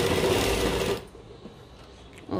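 A sewing machine stitching loops onto a plain-fabric kurta: a loud, steady whirring run close up for about a second, then it stops and the room goes quiet, with a brief restart at the end.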